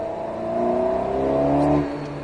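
An Alpine A110 S engine revs upward on a track at Lohéac, its pitch rising steadily as it accelerates, then drops off suddenly, heard from close by.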